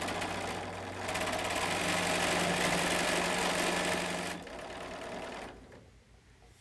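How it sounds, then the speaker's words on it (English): A sewing machine chain pieces quilt four-patches in a loud, continuous, close-up whir that runs for several seconds, then slows and fades to a quieter hum near the end. "I'm just going to keep sewing so I can chain piece and bring this one in."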